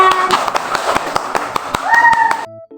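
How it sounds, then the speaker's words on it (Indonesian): Sharp, evenly spaced hand claps in a classroom storytelling session, a quick rhythmic run of close claps with children's voices sounding over them, ending abruptly in near-silence. "Kita beri tepuk tangan untuk kita."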